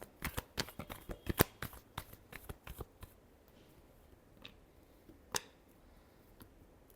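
Tarot cards are shuffled in a quick burst of crisp riffling snaps and flicks over the first three seconds, then only a few scattered taps and clicks follow in near quiet.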